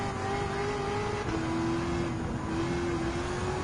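Race car engines from a Lamborghini Veneno 2013 and Ford GT 2006 in Gran Turismo 7 hum steadily at a fairly faint level, the pitch stepping down once and then holding, with no talking.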